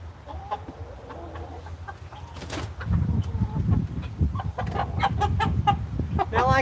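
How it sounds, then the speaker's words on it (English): A rooster in a chicken coop clucks and calls in short, repeated bursts, close and fairly loud, with scattered rustling and other fowl sounds around it and no talk. "he sounds a little different than my other roosters"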